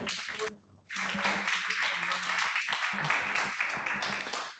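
Audience applause at a university communication symposium as the director is introduced, a short lull then full, steady clapping from many people filling the rest of the moment, with faint voices underneath.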